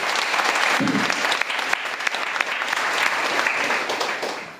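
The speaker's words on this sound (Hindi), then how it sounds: "चाहेंगे हमारे कॉन्सेप्ट के लिए जोरदार तालियां" Audience at a motivational talk gives a loud burst of steady applause, dense clapping sustained throughout before easing slightly at the end.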